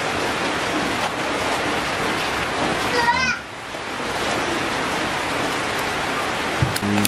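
Steady rain falls outdoors around a bonsai potting session, a dense continuous hiss with a brief dip midway and a short voice near the end.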